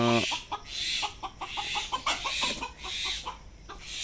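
Chickens cluck in short, repeated bursts close by inside a gated, locked backyard poultry enclosure, steady and busy, over a hissing background.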